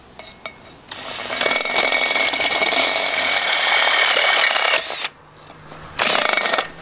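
A hand drill with a torque setting cuts through the headlight shell of a 1961 Norton Dominator 99 Slimline motorcycle, a loud, close grinding whir lasting several seconds, a brief pause, then another burst of drilling.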